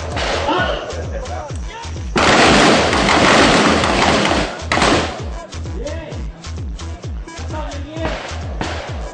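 Gunshots at a shooting range ring out as sharp, loud reports, with a dense burst of firing in the middle and scattered single shots on either side, while people talk nearby.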